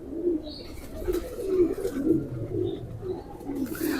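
Pigeon held in the hand, one of a pair of fancy kabootar, cooing softly in a low continuous throaty rumble, fairly close, with faint background noise.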